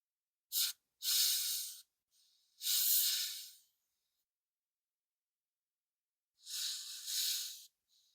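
An airbrush spraying yellow paint wash releases four short, close bursts of airy hiss, with silent gaps between them and no voices.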